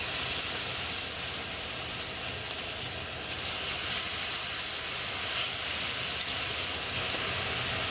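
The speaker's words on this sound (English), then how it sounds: "You want to make sure to hear that sizzle when you put them in." Lamb and pomegranate kebab skewers sizzling in hot olive oil in a pan, a steady broad frying hiss that swells slightly midway and continues evenly throughout, close and without talk.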